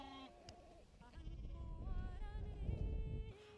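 Several sheep bleat on an open hillside, overlapping calls rising over a low rumble of wind and movement, fairly close and steady throughout.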